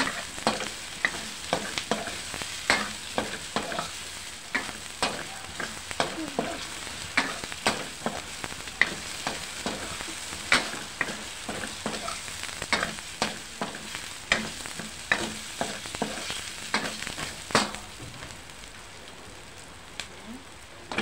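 Chorizo sizzles steadily in a pan for pancit bato while a utensil stirs it, producing frequent scraping clicks and pops over a dense frying hiss, close and fairly loud, with no talking.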